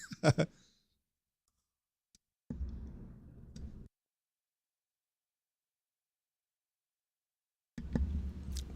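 A few short clicks from buttons being pressed, separated by silence, with a couple of brief low thumping bursts in between.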